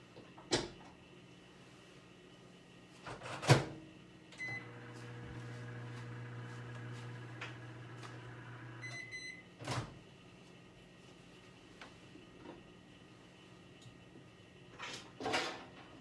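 A few sharp clunks of a door, then a 900-watt microwave oven hums steadily for several seconds, followed by beeps and more handling clatter.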